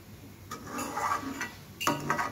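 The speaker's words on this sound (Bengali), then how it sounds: "রান্নাটা যখন শেষের দিকে আসবে যাতে লেগে না যায় সেদিকে খেয়াল রেখে বারবার কিন্তু নেড়ে দিতে হবে।" A spoon scrapes and knocks against a pot while firni is stirred to keep it from sticking. The taps and scrapes come in a loose, irregular rhythm, close but quiet, with no voices.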